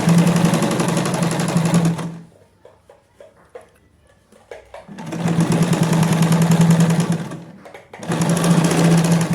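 A sewing machine top-stitches over a trouser zip in two loud, steady bursts of rapid whirring stitching, separated by a quiet pause of fabric handling and light clicks, then starts up again at the end.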